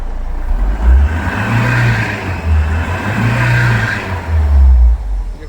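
A Bolero pickup with an accelerator wiring fault revs hard, its deep engine roar swelling and easing in three close, loud surges with no talk over it.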